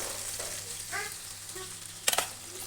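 A spoon stirring chilli gobi sauce with soy sauce and tomato ketchup in a pan, soft scraping strokes over a faint sizzle, with a sharper clatter near the end.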